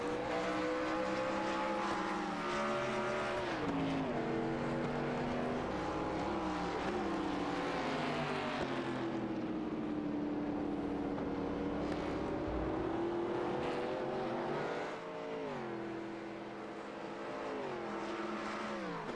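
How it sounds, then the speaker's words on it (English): Race cars at Watkins Glen bunched in a pack heading into the final two corners, engines roaring loud and continuous with rising and falling pitch as they pass and shift. "Big old knot of cars as they head into the final 2 corners of the track."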